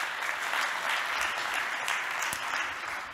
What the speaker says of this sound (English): Big applause for Tomáš Mejzlík.